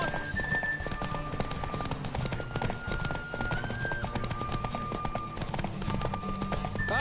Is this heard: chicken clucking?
no